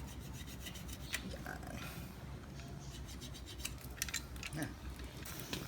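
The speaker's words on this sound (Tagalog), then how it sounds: "Ipa, ipapantay mo lang doon sa may gulong. Tapos kailangan mo lang siya i-cutter." A cutter slices a tire plug flush with the tire surface during a flat repair, giving quiet, continuous rasping and scraping strokes with a few sharper snips near the end.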